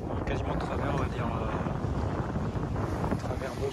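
Wind roars steadily across a sailboat at sea in a 15-knot beam breeze, with heavy buffeting on the microphone and a constant rushing hiss under the swell, no voices.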